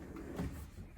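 A cabinet door opens inside a Fleetwood Bounder RV, one brief, soft wooden knock and swing heard close and quiet.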